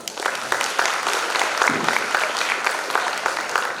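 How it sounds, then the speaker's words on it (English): A large audience claps steadily and warmly at a formal conference ceremony, a dense sustained wash of applause filling the room without cheering. "Another round of applause."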